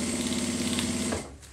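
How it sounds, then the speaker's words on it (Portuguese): Sewing machine stitching bias binding, a fast steady mechanical whirring hum with rapid needle clatter, close and continuous before stopping abruptly near the end. "costurar aqui, vou colocar meu viés pra gente finalizar"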